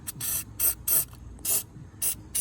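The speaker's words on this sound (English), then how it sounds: "I'm going to be spraying the lithium grease" Short bursts of lithium grease spray from an aerosol can hiss out one after another onto car door hinges, six quick sprays in irregular rhythm, close and fairly loud with brief pauses between.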